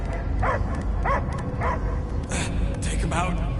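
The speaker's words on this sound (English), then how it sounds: "I hear only barking." A dog in the Guardians of the Galaxy video game barks in short, evenly spaced bursts, about one every half second, over a steady game soundscape, with a voice heard partway through.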